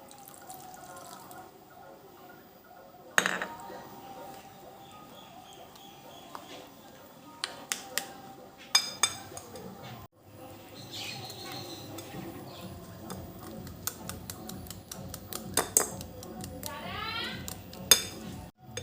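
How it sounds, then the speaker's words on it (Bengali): A spoon stirs sugar into milk in a bowl for an Oreo biscuit cake, giving scattered sharp clinks and taps against the dish over a low steady background hiss. "চিনিটা এর মধ্যে ভালোভাবে গুলিয়ে নিতে হবে"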